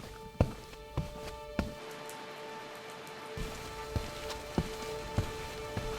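Steady rain patters on a surface during a trek to Peb Fort, a dense continuous hiss with louder drips landing every second or so, close by and with no voices.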